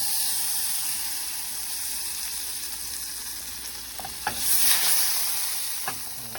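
Butter melting in a separate pan for a lemon caper sauce, a soft steady sizzle with a couple of sharp clinks and a brief swell of hissing, close and quiet.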